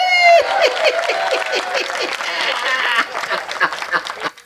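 Applause and clapping from an audience at a Hindi kavi sammelan poetry event, steady and fairly close, thinning out toward the end with a few scattered claps.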